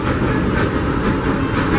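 Disneyland Railroad passenger train pulled by the C.K. Holliday #1 steam locomotive, a loud steady rumble and rushing clatter of wheels on rails heard up close from aboard.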